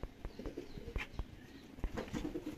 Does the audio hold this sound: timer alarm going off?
no